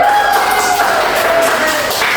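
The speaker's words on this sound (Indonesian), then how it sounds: "Tepuk tangan." Classroom of elementary pupils clapping hands together after a teacher's prompt, a dense, steady patter of many small hands filling the room, with bright voices and cheers mixed in.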